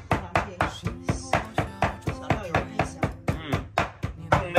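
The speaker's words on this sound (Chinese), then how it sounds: "开始剁驴肉" A cleaver chops fatty donkey meat by hand into dumpling filling for steamed donkey-and-scallion dumplings, striking a board in a steady run of sharp, close, loud blows, about three to four per second, with no talk.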